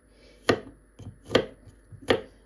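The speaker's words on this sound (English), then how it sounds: "Now time to chop the garlic." A knife chops garlic on a board in three sharp, evenly spaced strikes with faint softer taps between them, close and clear with no voices.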